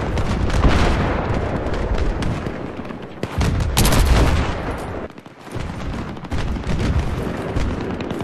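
A P90 submachine gun fires in the video game Battlefield 3, loud sustained rapid bursts of gunfire with short breaks between them and booming impacts mixed in, with no talk over it.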